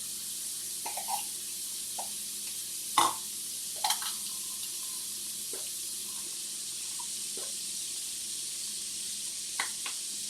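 Ketchup is stirred into melted butter in a pan: a soft, steady sizzle runs throughout with faint scraping and stirring knocks, a few sharper clinks of a utensil against the pan, close by and quiet.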